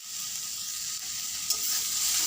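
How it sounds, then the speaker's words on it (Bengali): Drumstick (moringa) leaves sizzle and crackle in a hot pan, a bright and steady frying hiss heard up close, with no voices. "শাকটা ভাজা হয়ে গেছে"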